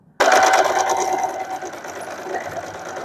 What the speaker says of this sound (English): I'm going to sew them with a straight stitch with a 1/2 inch of seam allowance while sewing.